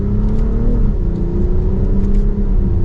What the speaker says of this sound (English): We can give it a small acceleration.